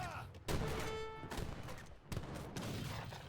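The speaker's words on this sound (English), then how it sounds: "Oh, that was the heavy cannon." Heavy cannon fire in Age of Empires III: a couple of booming blasts followed by a rumbling clatter during a busy battle.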